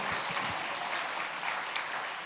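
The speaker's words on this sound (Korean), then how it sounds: "우리 박수로 영광을 돌립니다." Korean church congregation clapping in praise during an autumn revival meeting, a dense, even roar of applause that holds steady for the whole stretch with no voices on top.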